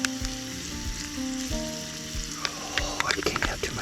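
Sauerkraut sizzles in a pan, a soft continuous frying hiss with intermittent scraping and clinking of a utensil, plus a low hum and quiet voices in the background.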